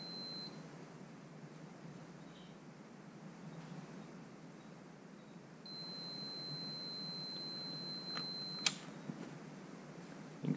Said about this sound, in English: I'm using the audible continuity setting.